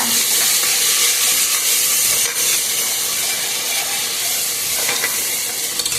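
Spices frying in a pan hiss and sizzle loudly and continuously up close, a dense steady crackle with faint stirring, and no talking.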